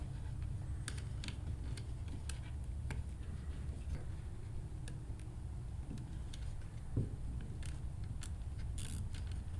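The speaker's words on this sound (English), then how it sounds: "And now we can zip tie our reed switch wires to the sensor cable." A zip tie is tightened around reed switch wires and a sensor cable during a Minn Kota Ultrex trolling motor steering sensor board repair, giving a scattered series of small close clicks and ticks over a low steady background hum.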